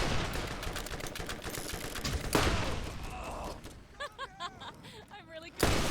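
Rapid gunfire from the Borderlands video game, dense bursts of shots over the first couple of seconds, then scattered weapon sounds and effects layered under voices talking.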